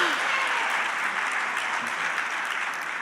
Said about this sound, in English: Karan, a round of applause.